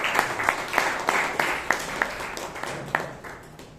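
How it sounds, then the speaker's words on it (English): Scattered applause from a small audience at a Toastmasters club meeting in Bangalore, a few uneven claps standing out over a soft wash of clapping for about four seconds, moderately near. "Give a round of applause once again for dynamic, dashing Toastmaster Bryan"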